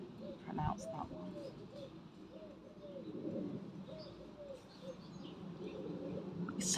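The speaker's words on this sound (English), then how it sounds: "So relaxing being out here. Listen to the birds." Doves cooing outdoors in a garden, soft repeated two-note calls at a steady rhythm over faint background noise and distant ambience.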